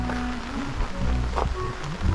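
Heavy rain pours at a campsite during a flood warning, a dense, constant patter drumming on a side awning and gear, with occasional drips and low background rumble throughout.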